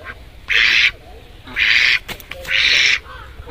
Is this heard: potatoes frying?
no